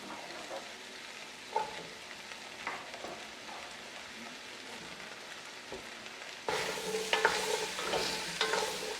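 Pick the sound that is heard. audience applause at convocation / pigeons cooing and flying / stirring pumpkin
stirring pumpkin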